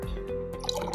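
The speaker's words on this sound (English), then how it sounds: "Now give the probe face a rinse with some fresh tap water" A conductivity probe rinsed under fresh tap water gives a short, close spatter of water dripping and trickling, lasting about a second.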